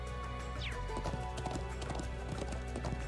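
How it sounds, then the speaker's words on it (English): Horse hooves clip-clopping in the video game Trails of Cold Steel 2, a steady, rapid trotting rhythm over continuous game music and ambience, fairly loud and close. "Let's grab our horse."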